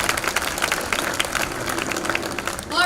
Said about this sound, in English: Give a warm round of applause to the Raquel daughters